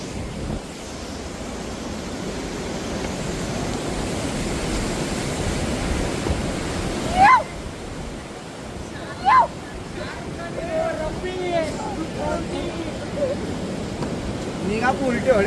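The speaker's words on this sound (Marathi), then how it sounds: "बाजूला नदी बघा, किती किती म्हणजे प्रेशर आहे नदीमध्ये बघा. किती हे जोरात चाललंय एकदम." A fast-flowing mountain river beside the Kedarnath trek rushes with a steady, broad roar, close and continuous, while a person talks over it and wind buffets the microphone.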